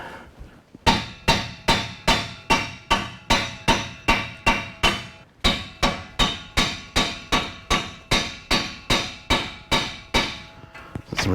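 A control arm bushing is hammered into place on a Silverado/Sierra 2WD, about twenty evenly spaced, loud metallic blows with a brief pause partway through, close and with no talking.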